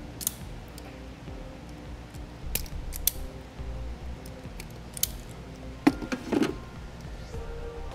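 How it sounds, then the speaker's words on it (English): Wire stripper biting and pulling insulation off a wire during a trailer wiring harness install on a 2017 Volkswagen Golf: sparse close clicks, snips and squeaky mechanical creaks scattered over a quiet background. "we'll strip off some insulation"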